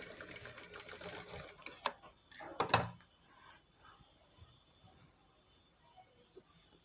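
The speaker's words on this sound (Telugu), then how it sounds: "నేను ఇలానే సెట్ చేసుకొని ఈ నెక్కును మొత్తం ఇలానే స్టిచ్ చేసేసాను" A sewing machine stitches the neckline of a blouse made from saree cloth in several quick, rattling bursts over the first three seconds, then goes quiet apart from faint handling sounds.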